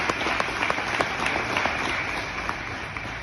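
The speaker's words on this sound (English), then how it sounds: "Give them a round of applause, will you?" An audience applauds the speaker's parents, who are seated in the room, producing a dense, steady wash of many hands clapping that holds at an even loudness for the whole stretch, with no talking over it.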